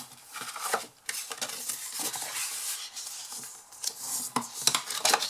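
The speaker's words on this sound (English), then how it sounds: "So I'm just going to fold and burnish these score lines." Paper card is folded along scored lines and burnished smooth, giving soft rubbing and scraping strokes in short bursts with brief pauses, close and fairly quiet.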